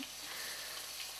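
Sugar snap peas sizzle and spit in a hot frying pan, giving a faint, steady hiss with no voices over it.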